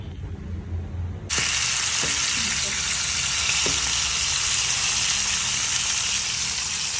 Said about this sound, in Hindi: सो ती आतां हांव फ्राय करता